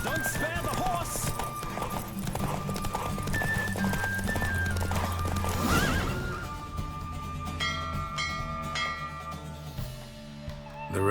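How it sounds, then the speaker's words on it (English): A horse in The Witcher 3 gallops with rapid clip-clop hoofbeats and lets out whinnies, joined by game music and sound effects, while game voices talk over it. "Don't spare the horse."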